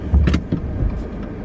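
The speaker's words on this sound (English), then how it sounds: "And now I'm driving home." Inside a moving car, a low steady road rumble and engine hum with a few faint knocks.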